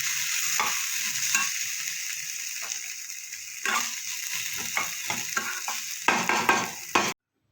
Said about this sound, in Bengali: আরও কিছুক্ষণ ভালো করে একটু ভাজা ভাজা করে দেব